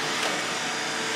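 A cordless vacuum cleaner running steadily, a constant airy whine held at even loudness with no other sounds.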